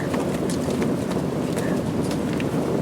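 A horse's hooves clip-clop in a steady, dense rhythm in a night scene of a medieval tale, loud and close against a continuous rumble.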